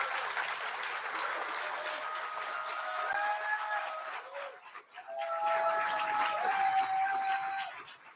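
An audience applauds Joe Biden at the close of a speech, a sustained, fairly distant wash of clapping that dips briefly and then swells again, with faint cheers and voices mixed in.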